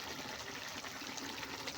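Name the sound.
pouring a little water into a fish curry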